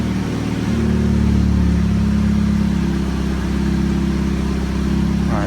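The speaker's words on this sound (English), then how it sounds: "So engine running." A Mini's engine runs at a steady idle during a 7-speed dual-clutch gearbox fluid service, a loud, close, continuous low drone with slight shifts in pitch and no talking.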